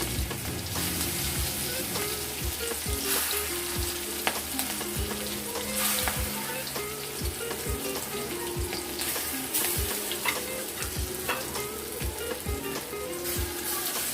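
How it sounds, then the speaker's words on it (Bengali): Green chillies sizzle in hot oil with a continuous close frying hiss, broken by repeated sharp ticks and spatters from the pan, with no voices. "কাঁচা লঙ্কাগুলো ফুটছে"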